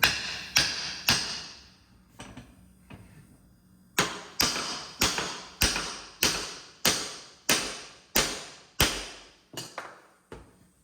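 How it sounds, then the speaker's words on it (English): Sharp, evenly spaced blows of a hammer striking a wooden hammer handle being fitted, about a dozen hits with short ringing decays, a brief pause after the first few. "but we'll hammer on it a little bit."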